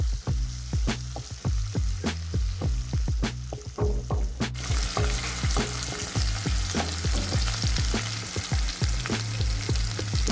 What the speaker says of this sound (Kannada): ಈಗ ಮೆಣಸಿನ್ಕಾಯಿ ಹಾಕೋತೀನಿ. ಚೆಂದಾಗೆ ಫ್ರೈ ಮಾಡ್ಕೋತೀನಿ.